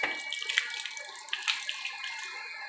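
Water poured or splashing from a tap onto a fish-cutting board (boti) during fish preparation, a steady bright hiss of running water with small splashy bursts, close and alone.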